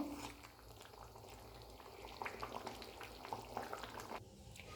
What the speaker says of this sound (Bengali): এই রেসিপিতে গ্রেভিটা টকবক করে ফুটে উঠেছে।